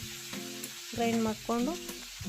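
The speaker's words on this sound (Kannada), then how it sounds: "ಈ ಥರ ಎಣ್ಣೆಗೆ ಹಾಕಿ ಸ್ವಲ್ಪ ಫ್ರೈ ಮಾಡಿ" A brief, quiet sizzle of ground green chili paste frying in oil, broken by a couple of short squeaky, tonal scrapes, with no talking.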